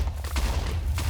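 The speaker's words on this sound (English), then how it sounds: "I only see TNT as it's getting lit. And I hear the explosions." TNT blocks exploding in Minecraft, a dense, loud rumbling blast with a couple of sharper bursts in quick succession, close and booming.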